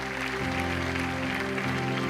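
Audience applause in a church service, a steady dense clatter of clapping filling the room with a sustained tonal hum from music or an organ underneath.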